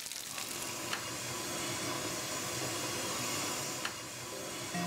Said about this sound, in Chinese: 我这个是酥肉，它是半煎半炸的。